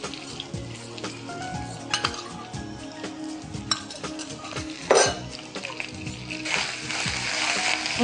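Onions sautéing in a pan for chicken pepper fry as ginger garlic paste goes in, with a low steady sizzle under repeated metal spoon clinks and scrapes against the pan, close and busy, rising in hiss near the end.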